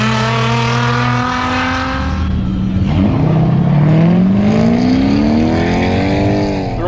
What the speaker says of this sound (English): we're gonna watch the Grand National make a pass here